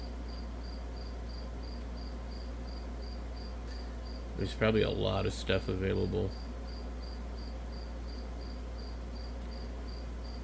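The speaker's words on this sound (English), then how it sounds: "what I would do with these crickets, having to listen to them" Crickets chirp steadily in a high, pulsing drone throughout, while a person speaks briefly partway through.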